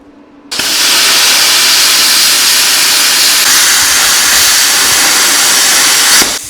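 A Bestarc plasma cutter slices through 12 gauge metal at 25 amps. After a quiet start, a loud, steady, close hiss kicks in abruptly and holds for about six seconds before cutting off.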